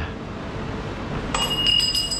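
Brake pads dropping and clinking against metal during a pad change on a cross enduro motorcycle, a short cluster of bright light metallic clinks near the end over a steady low workshop hum.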